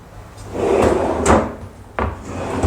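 Kitchen drawer under a stove being slid open and shut, a couple of wooden sliding rumbles ending in sharp bumps, close and fairly loud with no talking.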